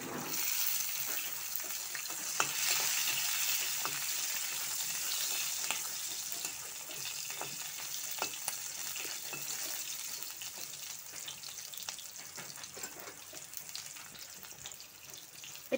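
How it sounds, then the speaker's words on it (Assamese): Chopped onions sizzle and fry in a pan for an okra (bhindi) curry. A steady, close frying hiss runs throughout, with scattered light ticks and clinks from stirring. No one speaks. "ইয়াৰ পিছত দিম আমাৰ কাটি ৰখা পিঁয়াজ কেইটুকুৰা।"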